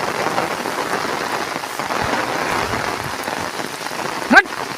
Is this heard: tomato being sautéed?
no